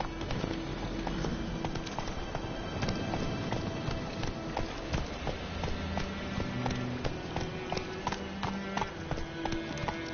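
Hooves of the horse Roach clip-clopping in a PS4 video game, a steady run of hoof beats under game music and ambience, no talking.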